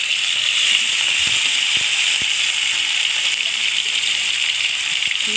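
Fish frying in hot oil, a steady broadband hiss and sizzle that stays loud and even throughout, with a few faint clicks and taps underneath.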